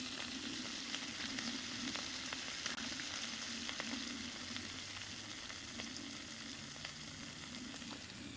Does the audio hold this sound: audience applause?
no